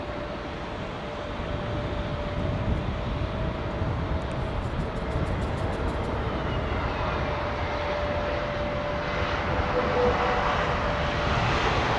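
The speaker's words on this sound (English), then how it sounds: "that's Japan Airlines 350, 1000" A Japan Airlines Airbus A350-1000 jetliner at London Heathrow sends out a moderate, continuous engine roar with a faint steady whine running through it, rising slightly toward the end.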